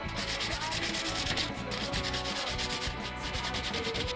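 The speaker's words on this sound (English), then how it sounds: "I'm just going to sand it down" A wooden workpiece is sanded down by hand in a workshop, a loud, continuous close-up rasping rub with a steady back-and-forth rhythm and no voices.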